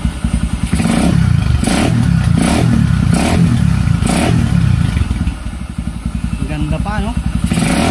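A 19-year-old Kawasaki Barako motorcycle idling close by, a loud continuous chugging engine rhythm with clattering mechanical thumps, while someone talks over it.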